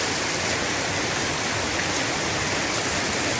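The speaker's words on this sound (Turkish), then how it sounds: "Burada ırmak akıyor." River in flood surging through an overflowing channel, a loud, steady broadband rush of water with no talk.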